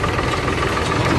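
Swaraj 735 tractor engine running steadily close by, a loud, continuous low diesel rumble and throb with faint knocking, no voices.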